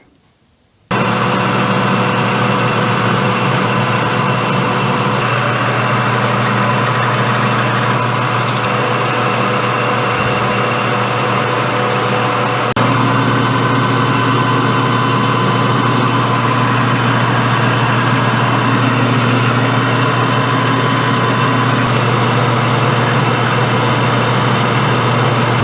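Loud, steady drone of a metal-cutting machine tool starting up and running in a workshop, a dense continuous whir with a slight shift in tone midway, no voices.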